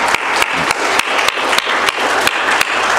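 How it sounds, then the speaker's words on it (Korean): A church congregation gives welcoming applause for a newcomer, a loud, brisk burst of many hands clapping with sharp individual claps standing out in a fairly regular rhythm. "잠깐 자리에서 일어나 주시면 환영의 박수를 돌려드리겠습니다."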